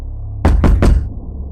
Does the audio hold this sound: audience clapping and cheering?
no